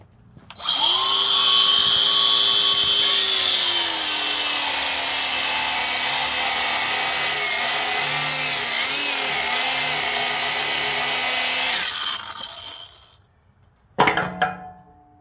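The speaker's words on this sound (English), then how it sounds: "Get the grinder in there and work on that top." A grinder works on the top of a Wolfe Ridge wood splitter with a loud, sustained, high whine that holds steady for about eleven seconds, wavers slightly under load, then spins down, followed by a short metallic clank.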